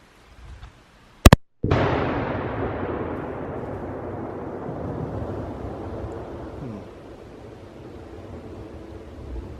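A Hyper Shock exploding target, hit by a Mossberg ATR .308 rifle on an outdoor shooting range, sets off a sharp crack followed by a loud, long rumbling blast that rolls and echoes for several seconds.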